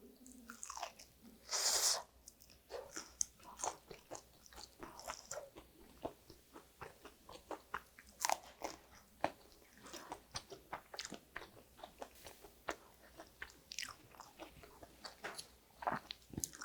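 Crispy shrimp pancake made without flour is chewed up close: repeated crunchy bites and moist chewing in an irregular rhythm, with no talking.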